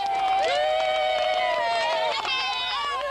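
Townspeople lining a country road cheer Olympic torch relay runners, with loud sustained shouts and whoops from a close crowd mixed with some clapping.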